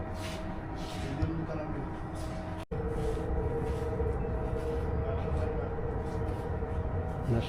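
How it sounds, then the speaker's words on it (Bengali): A Riyadh metro train pulls into a station, a steady low rumble and hum of the arriving cars filling the platform, with a brief gap in the noise partway through and faint voices around. "আমাদের মেট্রো যেটাতে করে আমরা যাবো ওটা চলে আসতেছে"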